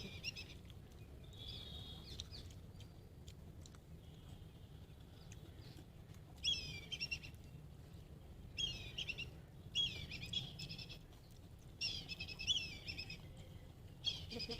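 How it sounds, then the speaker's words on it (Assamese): Small birds chirp outdoors in short, high bursts of tweets scattered over a quiet, low background, a few distinct call clusters coming and going at moderate distance. "সেইটো চৰাই চৰাই"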